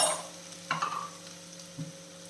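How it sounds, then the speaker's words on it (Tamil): Raw papaya fry being stirred in a pan: a couple of distinct scrapes and clinks of the spatula against the pan over a faint, low sizzle, close but quiet, no talking. "சேர்த்து நல்லா கிளறிப்போம் பாருங்கள் நல்லா கிளறிட்டேன்"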